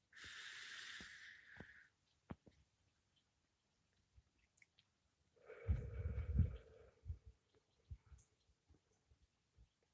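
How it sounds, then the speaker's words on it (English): Slow, deep breathing during a guided breathing exercise, with a long airy inhale, a pause, then a softer exhale and faint closing sounds, quiet and close. "Hold it for a moment, and then exhale."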